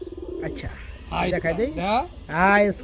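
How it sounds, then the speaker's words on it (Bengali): Pigeons coo at a pigeon seller's, their soft, low throaty calls running underneath close, loud conversation between people. "এত সুন্দর এই যে কবুতররা ডাকতেছে"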